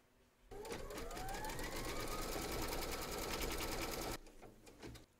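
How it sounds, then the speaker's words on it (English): An embroidery machine stitching an in-the-hoop fabric design, a fast steady mechanical whir and rapid needle clatter running loud and continuous for about four seconds before stopping abruptly. "Pop your hoop into your machine and stitch round number 8 to secure it."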